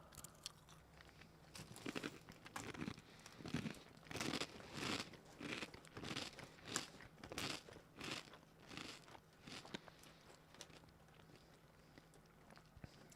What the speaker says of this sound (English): I'm eating Chex Mix.